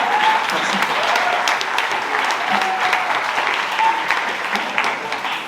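A student audience at a stand-up comedy show at INSA Toulouse claps in sustained, even applause, a dense crackle of many hands that holds steady and then begins to fade.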